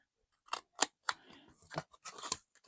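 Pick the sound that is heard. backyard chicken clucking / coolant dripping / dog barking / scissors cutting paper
scissors cutting paper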